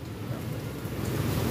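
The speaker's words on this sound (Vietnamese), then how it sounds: "Mưa, đang mưa." Rain falling outdoors at a roadside durian stall in Vietnam, a steady even hiss that swells slightly toward the end, with no voices over it.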